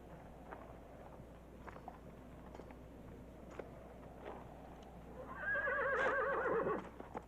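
Horses in a Western town setting: faint hoof shuffles and thuds, then a loud, quavering whinny rising near the end and lasting over a second.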